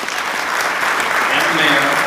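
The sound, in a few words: audience applause for the police chief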